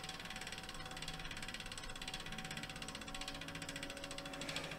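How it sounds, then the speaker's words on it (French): A spinning bicycle wheel's freewheel ratchet buzzes with a rapid, even stream of tiny pawl clicks, faint and close, running steadily throughout with no voices. "même si le vélo n'est pas monté, on fait tourner la roue. On écoute le bruit aussi."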